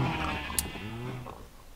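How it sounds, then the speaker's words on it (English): Sheep in the Minecraft video game bleat in a single wavering call, fairly loud and close, with no speech over it. "How the heck are the sheep escaping?"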